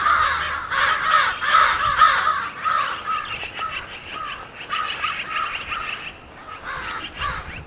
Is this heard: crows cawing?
yes